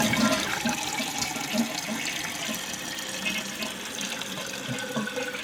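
Water runs and trickles continuously into a toilet bowl past a leaking flapper whose bottom gasket has deteriorated, a close, steady hissing flow with faint gurgles and no voices.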